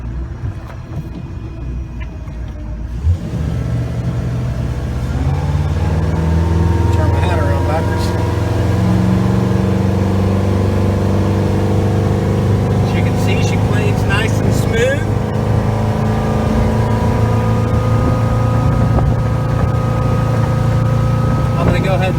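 A 2008 Azure 238 boat's engine throttling up from idle into a loud, deep, sustained roar with rising harmonic tones as it accelerates on the water, with someone talking over the engine.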